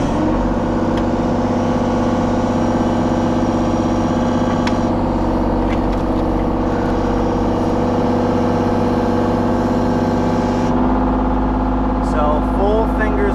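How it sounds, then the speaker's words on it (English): Excavator fitted with a Steelwrist X04 tiltrotator and gripper, its engine idling in a steady low rumble, loud and close, unchanged throughout with a faint clicking near the end. "Machine is back down to idle."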